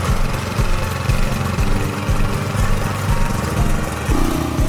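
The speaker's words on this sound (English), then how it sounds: "first gently squeeze the clutch lever to control the operating speed of the microtiller" A 4.0 kW gasoline-powered, belt-driven micro tiller with a 750 mm working width runs steadily nearby, its engine throbbing with a continuous mid-pitched drone and a slight shift in tone near the end.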